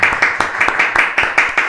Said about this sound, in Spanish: Con todos los aplausos lo recibimos a usted.